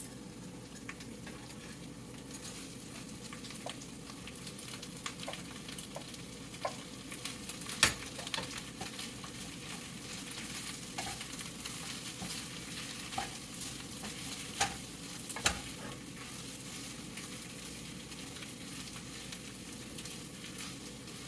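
Eggs sizzle and fry in a pan while being stirred, with a steady crackling hiss and occasional sharp scrapes of the utensil, close and continuous without talk.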